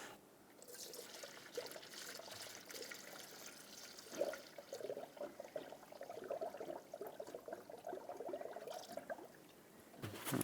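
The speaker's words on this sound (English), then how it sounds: "Now I'm going to add the appropriate type of coolant until the funnel is about a quarter of the way full." Coolant poured into a funnel on the cooling system of a 2006–2011 Honda Civic during a water pump replacement, a steady faint trickle and gurgle running for several seconds, alone and close by.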